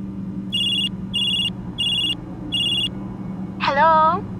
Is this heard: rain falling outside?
no